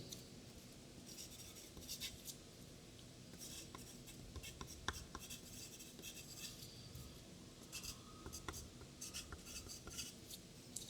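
Pen scratching and tapping across paper at a desk while revising databases notes, steady soft strokes with small clicks, close and quiet, no talking.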